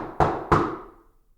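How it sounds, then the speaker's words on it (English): Two firm knocks at a door, about a third of a second apart, each striking crisply and then ringing out briefly in a small room, with nothing else heard. "Just then there was a knock at the door."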